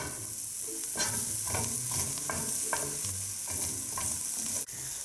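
Shallots and garlic sauté in a pan, a continuous close sizzle broken by repeated scraping stirs of a utensil at a loose, uneven rhythm, with nobody speaking.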